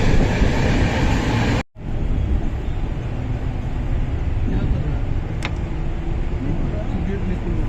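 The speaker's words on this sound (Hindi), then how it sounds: "ट्रेन चलती है" A double-decker passenger train on the Jaipur to Delhi route rumbles steadily along the rails, a continuous loud rolling roar with a brief cut near the start and a faint high squeal later on.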